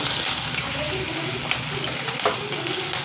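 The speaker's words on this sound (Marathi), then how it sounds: "आता ह्याच्यामध्ये मी कांदा आणि शिमला मिरची घातलेली, ती चांगली आपल्याला परतून घ्यायची आहे।" Onion and capsicum sauté in a hot pan, sending up a loud, continuous close sizzle with occasional stirring scrapes, and a voice speaks faintly underneath.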